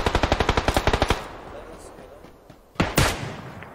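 Rapid automatic gunfire in the video game PUBG Lite, a burst of about a dozen sharp shots in quick succession, then a pause and a single louder shot near the end.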